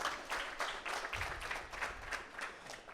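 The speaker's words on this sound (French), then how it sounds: "Regardez, applaudissez tous ensemble." Comedy show audience applauding together on command, a fairly faint, distant patter of clapping with rhythmic pulses and a brief low thump partway through.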